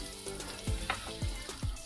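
Butter melts in a little hot oil in a pan for duck caldereta, giving a steady close sizzle with a few bursts of spitting, no speech.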